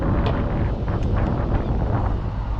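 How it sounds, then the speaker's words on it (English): Strong wind buffets the microphone outdoors in Scotland while a drone is flown, a continuous loud rumbling roar with gusty fluctuations throughout. "the wind is giving me a bit of hassle, which is typical"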